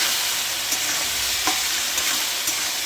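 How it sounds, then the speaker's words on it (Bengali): Soy sauce and salt mixture being stirred in a pan for dragon chicken, a steady frying sizzle with a few soft scrapes of the spoon, close and continuous with no talking. "এবার এটাকে ভালো করে মিক্স করবো, আর এর মধ্যে সয়া সসটা আন্দাজ মতো দিয়ে দেবো"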